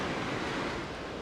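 Ocean surf washes onto the beach during shore fishing for a shark, a continuous loud rushing roar with wind buffeting the microphone.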